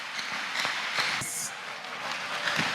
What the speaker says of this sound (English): Clap your hands beautifully for Master Jesus Christ